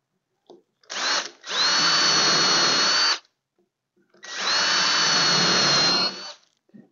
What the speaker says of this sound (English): that's where I'm going to want to drill my holes